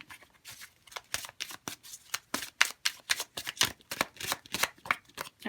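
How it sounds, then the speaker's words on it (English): Tarot cards being shuffled by hand, a close, steady run of papery riffles and slaps repeating about twice a second with no voice over them. "shuffle these back in because I really just need one"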